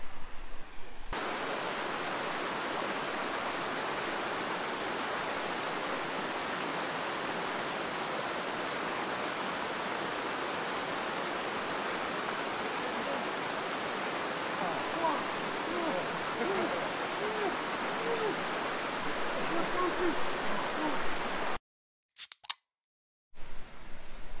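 A mountain stream in the Monges massif of the Alpes-de-Haute-Provence flows with a steady, even rushing hiss, close and continuous for most of the stretch, cutting to brief silence and a few clicks at the very end.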